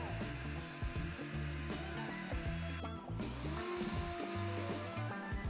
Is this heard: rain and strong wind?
no